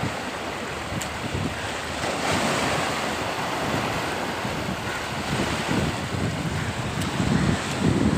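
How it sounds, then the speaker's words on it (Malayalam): Sea waves wash continuously onto a beach in a loud, steady roar, heavy with wind buffeting the microphone and no voices. "കടലിങ്ങനെ വന്ന് പേരെ എടുത്തിട്ട് പോകും."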